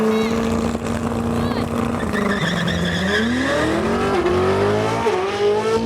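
Bugatti Divo and Koenigsegg Jesko hypercars in a drag race, engines holding a steady tone, then climbing in pitch through repeated gear changes, loud and close with people talking over it.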